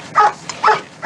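Police dog barking in West Auckland, three sharp barks at an even pace, close and loud, with short yelping quality and quiet gaps between.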